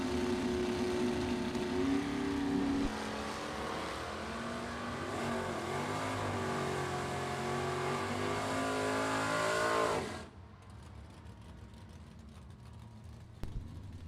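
Drag race launch between a 1994 Mustang and a Camaro: engines scream and climb through gears at strip distance, then cut off abruptly, leaving faint crowd and ambient noise.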